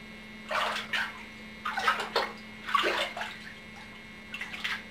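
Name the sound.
water splashing in a bathtub while washing a child's hair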